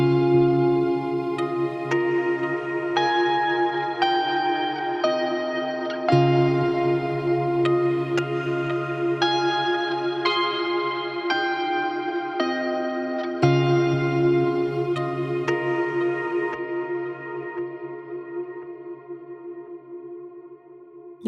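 Layered electric guitars stack harmony, octave and chord doubles over a main part, sustained chords changing every few seconds with echo and reverb, loud and steady before a gradual fade, with no talking.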